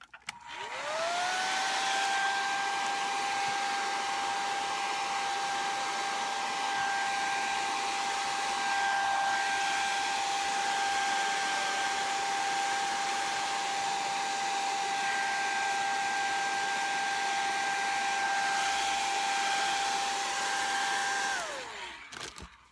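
A hair dryer runs continuously for about twenty seconds while drying a wet surface, giving a steady, close, loud whirring hum with a constant motor whine that starts and stops cleanly.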